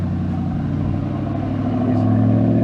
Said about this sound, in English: His exhaust, he really likes it. It sounded really nice.